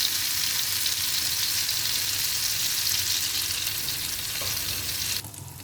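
Sweet bread frying in a pan, a steady dense sizzle of hot oil running continuously, loud and close, dropping slightly near the end with no talk.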